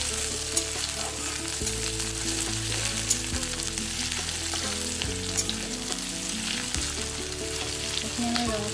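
Onions frying in oil until reddish for a jackfruit seed and pumpkin leaf dish give a steady, dense sizzle throughout, with tonal background music running underneath.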